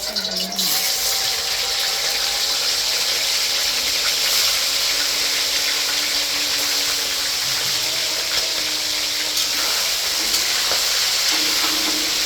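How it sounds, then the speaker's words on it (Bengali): Chicken pieces frying in hot oil previously used for fried onions, a continuous even sizzle with occasional stirring and scraping throughout, fairly close, without speech. "এখন চিকেনটা ভেজে নিই।"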